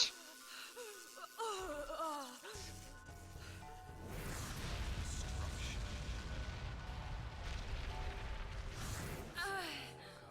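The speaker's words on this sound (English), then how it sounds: "Classic explosion silhouette with the rising debris." A large explosion erupts in the Seven Samurai 20XX video game, a deep sustained boom and rumble following moments of game effects and voice, loud and close.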